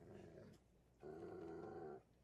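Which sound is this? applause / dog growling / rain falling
dog growling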